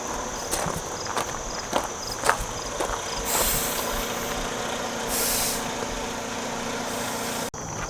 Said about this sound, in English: Just airing them up now.